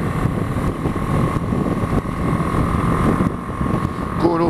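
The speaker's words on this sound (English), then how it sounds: "Going uphill now, and it's got some pull. Obviously, I'm just in fifth gear, so it's not lacking." A BMW G 310 GS motorcycle climbs a hill in fifth gear, its engine holding a steady, even drone throughout, with constant wind rush over the rider's microphone.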